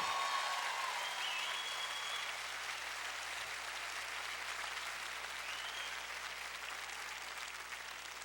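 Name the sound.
concert audience applause for the band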